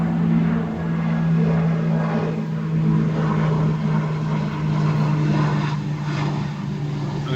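A steady propeller-engine drone with a strong low hum, continuous and fairly loud throughout, like a light aircraft passing overhead.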